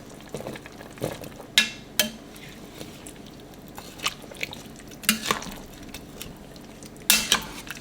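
Red potatoes dropped into a pot of southern-style green beans: irregular clattering thuds and splashes as pieces land, with metal utensil clinks, several loud bursts spread across the stretch.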